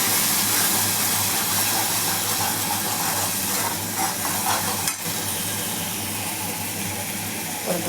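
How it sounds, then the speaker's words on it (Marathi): Masala being stir-fried in a hot pan, a continuous close sizzle with repeated scraping stirs and a faint clink of the spoon partway through. "परतून घ्यायचं."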